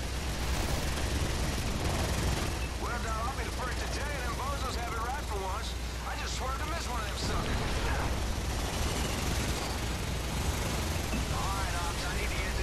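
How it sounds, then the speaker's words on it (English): Townhouses blown up in the video game EDF: Iron Rain give a steady barrage of rumbling explosions and crackling gunfire, with whirring aircraft noise and chirping effects layered throughout, continuous and loud. "So you can see I'm already blowing up some townhouses here."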